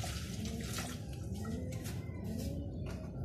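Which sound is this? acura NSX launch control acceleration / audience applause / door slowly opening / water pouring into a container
water pouring into a container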